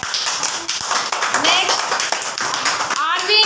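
Children clap for classmates in a classroom lesson, a dense patter of small hands running the whole length while a teacher's voice talks over it.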